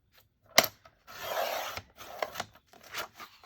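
Scissors cut paper for a no-sew Christmas cookbook journal, a sharp snip followed by a longer rasping cut and several smaller snips and rustles, close and clear with no talking.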